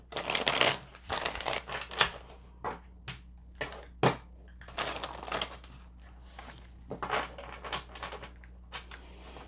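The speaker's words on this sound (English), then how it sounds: "So let's pull some last cards here." Tarot cards being shuffled and drawn from a deck, close papery riffles and flicks in irregular bursts with quiet gaps between them, no talking.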